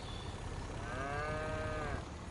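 A single long, drawn-out cow moo from the Farming Simulator 25 video game, with a wavering harmonic tone that rises and falls over about a second, heard over a steady background hiss with no talking.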